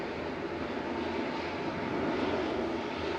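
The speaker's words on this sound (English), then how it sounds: "You can't beat the KLM E2. I think it is one of the most beautiful aircraft." A KLM Embraer E2 airliner at Manchester Airport gives a steady, broad engine roar that holds evenly throughout, moderately loud and with no voices over it.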